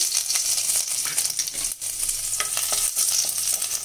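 Finely chopped garlic fries in hot oil in a pan, giving a loud, continuous close-up sizzle with crackling bursts and occasional stirring scrapes.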